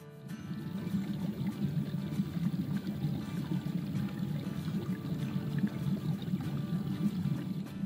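Water flowing steadily into a DIY cold plunge tub, entering through a pump-fed inlet with ozone, a continuous low rushing and trickling wash that holds even and fairly quiet throughout, with no talk.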